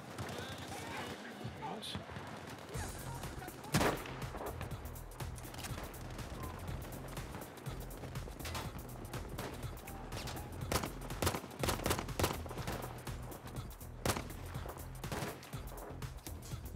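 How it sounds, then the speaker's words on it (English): Sniper rifles trade fire in Battlefield V on PC, with sharp single shots and distant gunfire cracking at irregular intervals over a low battlefield rumble, and players talk through it. "Me and this other sniper busy trading shots."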